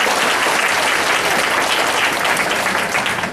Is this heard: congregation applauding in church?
yes